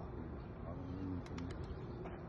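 A pigeon coos in soft low calls during outdoor pigeon trapping, with voices talking over it throughout.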